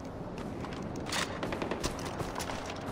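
Gunfire in the video game Far Cry 4: rapid, overlapping volleys of automatic shots crackle through a dense battle mix at moderate loudness, with no voices.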